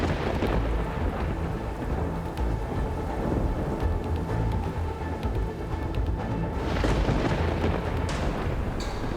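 Thunderstorm with steady heavy rain, loud and continuous, with rolling thunder rumbles swelling through the storm and a louder burst near the end; no voices.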